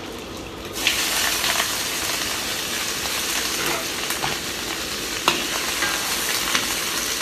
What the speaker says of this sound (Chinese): 搁一个圆葱，大点块切，搁几个姜片，给它炒一下